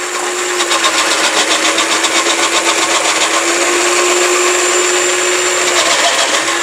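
A food processor motor runs at a loud, steady whine for several seconds while chopping vegetables such as potato and carrot, with a faint pulsing flutter in the tone.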